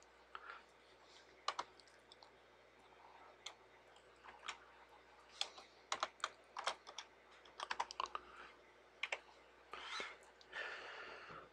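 Computer keyboard being typed on while entering user details in a Solaris user manager, quiet irregular bursts of clicky keystrokes with short pauses, close and soft, with faint breathing in the background.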